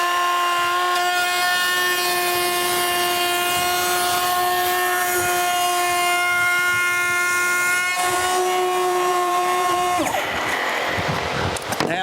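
A wood router whines at a high, steady pitch while cutting a cove profile into curved wood trim, loud and continuous before the tone drops and shifts as the cut ends near the close.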